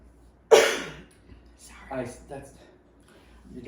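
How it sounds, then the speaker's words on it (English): A single sharp cough lands close into a microphone during a podcast recording, a loud burst followed by a few softer throaty sounds and breaths. "I just coughed into the microphone like a heathen"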